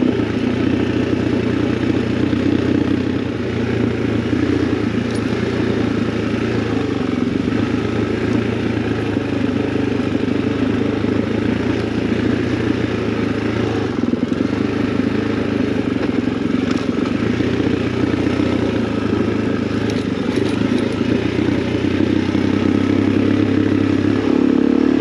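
A motorcycle rides steadily over a rough, rocky trail near Gunnison, its engine droning continuously and close while the bike clatters and rattles over the uneven ground.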